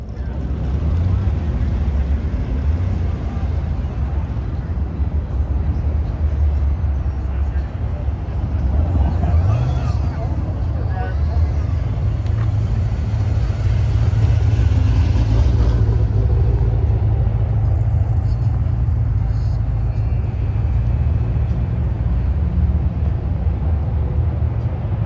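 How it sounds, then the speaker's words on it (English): Mustangs, Camaros and Corvettes rolling into a cars and coffee meet: a continuous deep engine rumble and exhaust drone that swells and lingers, fairly loud and close, with no talk over it. "So it's kind of cool to hear these cars come in."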